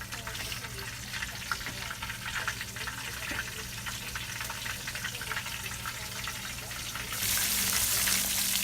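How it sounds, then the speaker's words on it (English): Fish pieces coated in Zatarain's fish fry, gar from a catch-and-cook, hiss and crackle steadily in a hot pan, a constant broadband sizzle that swells louder near the end. "And we'll go ahead and throw it in the pan. It's sizzling good."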